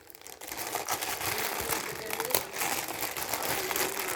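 Plastic wrapping of a shipping package crinkles and rustles continuously as it is slowly pulled open up close, a dense steady crackle lasting throughout.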